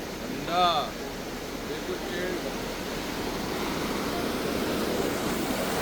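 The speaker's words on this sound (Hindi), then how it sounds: "आवाज़ भी बहुत हो रही है यहाँ पे, पूरा तगड़ा शोर हो रहा है भाई अलकनंदा जी का" Steady broadband roar of the rushing Alakananda mountain river near Badrinath fills the whole clip, with a brief voice near the start.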